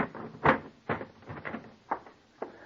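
A wardrobe trunk is forced shut in a radio drama: a series of separate knocks and bumps, one heavy thud followed by three lighter ones spaced about half a second apart, close and fairly soft.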